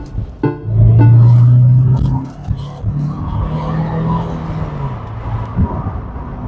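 A car with freshly inflated tyres drives along a road, its engine a loud, steady drone that swells early, then holds a constant hum with faint tyre noise and no talking.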